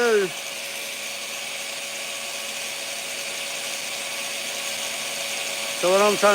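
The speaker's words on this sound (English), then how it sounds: "get the spot welds off so I can remove the outer skin" A power tool removes spot welds from the trunk and rear tub body panel of a 1968 Lemans, holding a steady, high, loud whine throughout, with a voice heard briefly at the start and the end.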